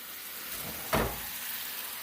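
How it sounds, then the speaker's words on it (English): Bacon frying in a pan on a stove set to medium-high, a steady soft sizzle with one brief louder clatter as it is flipped, no voices. "the bacon, we just keep flipping over so it gets nice and crispy"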